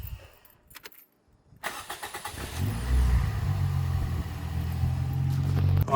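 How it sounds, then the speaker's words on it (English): A Toyota Yaris T Sport with a newly fitted starter motor: faint clicks, a short pause, then a crisp crank as the engine fires and settles into a steady, close idle, with no talking. "Now that sounds like a healthy starter"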